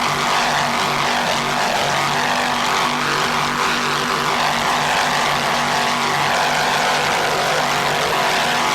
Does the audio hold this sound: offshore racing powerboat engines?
yes